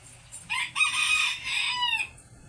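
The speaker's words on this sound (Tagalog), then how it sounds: "dami ba namang manok?" A rooster crows nearby, a loud drawn-out call, with a few short clucks just before it.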